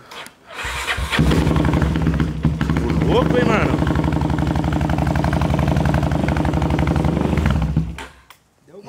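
A motorcycle engine cranks and catches, then settles into a loud, steady idle nearby while someone speaks briefly over it.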